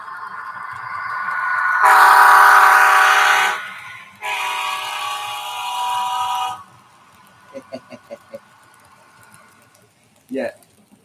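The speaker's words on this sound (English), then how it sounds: "I'll give you another blast of the horn as it comes around." A passing train sounds two long, loud horn blasts, the second slightly quieter, followed by a fainter rumble with scattered clanks and one short sharp burst near the end.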